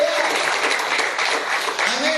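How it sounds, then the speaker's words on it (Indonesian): A church congregation applauds during a sermon, with dense, continuous clapping at close range and voices mixed in throughout. "Yang setuju tepuk tangan bagi Allah kita."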